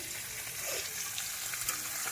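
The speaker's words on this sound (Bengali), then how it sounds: "এই যে এখন বাঁধাকপিটা করব মাছের মাথা দিয়ে, বাচ্চাদের জন্য ঝোল।" Cabbage sizzles steadily in a pan with a fish head as a broth is being made for children. The frying hiss is close and continuous, with light stirring scrapes and no voices.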